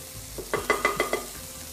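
Chopped garlic hitting hot oil for a Bengali tempering, a short burst of five or six sharp crackling pops in quick succession before settling into a faint sizzle, heard alone.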